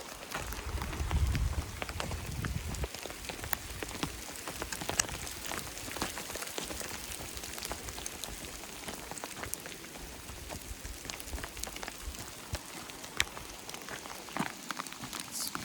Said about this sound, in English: it's beginning to hail